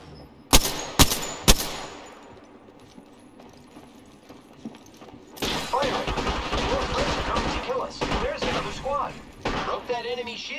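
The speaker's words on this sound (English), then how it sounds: "The enemies are shooting at me." Enemy gunfire in the Apex Legends battle royale game: a few sharp isolated shots early on, then a dense, sustained burst of rapid fire and clatter that stays loud until the end.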